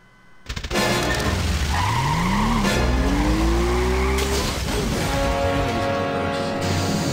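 A car in the adventure game Goodbye Deponia drives off with a loud engine revving up in rising pitch, tires skidding and squealing, and a sustained motor roar through to the end.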